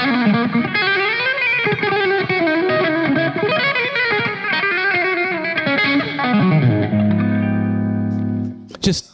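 Electric guitar run played with heavy distortion and effects, a fast flurry of sustained, reverberant notes climbing and falling before settling into a long held chord and a brief noisy scrape at the end, loud and close.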